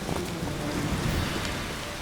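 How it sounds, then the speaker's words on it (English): Rain falls steadily in The Witcher 3 game world, a soft, even hiss of drops on the ground with faint low rumbling beneath, heard alone without talk. "Looks like rain."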